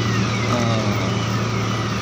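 An Ashok Leyland 4019 truck engine reverses with a steady, loud mid-range drone that holds evenly throughout, close and unbroken.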